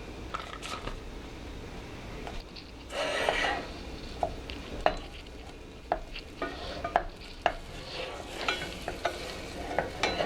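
A stick of butter melts and sizzles in a pan while being stirred, a close crackle broken by sharp utensil scrapes and taps against the pan, no voices.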